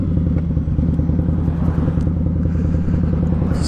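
An Indian Scout Bobber motorcycle engine pulls hard and continuously while upshifting through fourth, fifth and sixth gear, a loud, close, throbbing roar with a dense pulsing beat and no talking.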